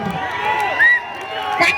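Audience at a live stage show cheering and clapping: a dense, loud crowd roar with whoops and shouts rising in short bursts.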